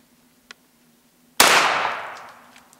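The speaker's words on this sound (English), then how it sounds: "Next we'll fire off our 97 Winchester." A single sharp, loud blast from a Winchester 1897 shotgun firing buckshot rings out and decays over about a second, after a faint click just before it.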